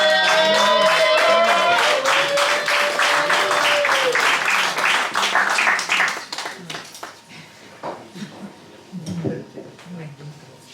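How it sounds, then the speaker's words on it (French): Loud audience applause and cheering at a slam poetry tournament, a dense burst of clapping that thins and fades after about six seconds, with voices and scattered claps continuing underneath. "Je vous demande d'applaudir très très fort."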